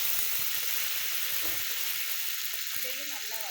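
Onion fries in a hot pan with chilies for chicken gravy, giving a steady, close sizzle with occasional stirring scrapes.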